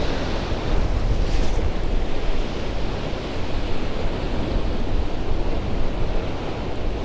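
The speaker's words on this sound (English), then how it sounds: "The wind swell is just too big." A constant, heavy roar of ocean waves and gusting wind at a sea cliff, with wind buffeting the microphone and no voices.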